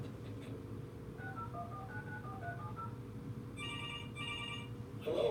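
A telephone call being placed: a quick run of dialing tones, then a pause and repeated electronic ringing in two bursts, faint over a steady background hum.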